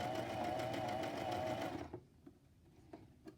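A Janome 5812 sewing machine stitches a decorative back-and-forth pattern, running as a loud, steady mechanical whir with rapid needle clatter for nearly two seconds, then stopping and leaving a few faint clicks of handling.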